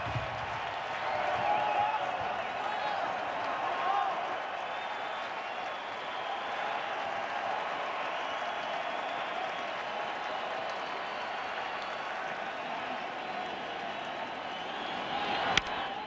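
Stadium crowd at a Dodgers home playoff game against the Cubs, a steady broad roar of applause and cheering that holds for the whole stretch, with one sharp pop near the end.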